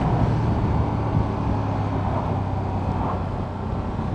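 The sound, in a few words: Ducati Streetfighter V2 motorcycle engine while riding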